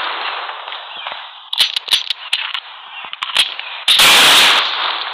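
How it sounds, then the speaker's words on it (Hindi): Gunfire in the mobile shooter Critical Ops: a series of sharp, close shots in uneven bursts, then a louder sustained blast, all over a steady background hum. "फायरिंग कर रहा है"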